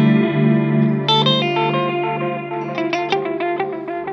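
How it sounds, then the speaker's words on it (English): Electric guitar through a Strymon Brigadier bucket-brigade delay pedal with the bucket-loss setting raised, so plucked notes repeat with added drive, slight distortion and noise on the echoes, playing alone. "You hear the little distortion and noise."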